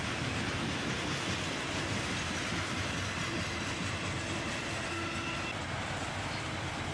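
A freight train rolls steadily past at close range, including a covered gondola car, with continuous rumbling wheels and rail noise filling the whole stretch without talk.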